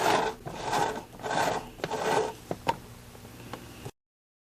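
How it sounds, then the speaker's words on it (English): A Lazy Susan turntable spins under a mandala dot art piece on cardstock, giving a loud rasping, rubbing whir in three long surges, then a few sharp ticks and clicks as it slows, with no talking. "and then I spin the Lazy Susan. Sorry if this is a little loud."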